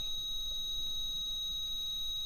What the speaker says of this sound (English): the REM pod stopped and then it started beeping again when I said that